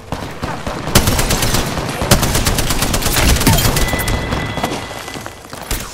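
Gunfire in the video game Apex Legends, a dense burst of rapid automatic shots with sharp cracks and impacts, loud and close over a few seconds.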